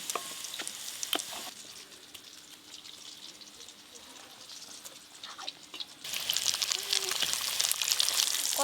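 Egg devil (egg chops) frying in hot oil, a steady broadband sizzle with faint clinks, growing louder and brighter toward the end.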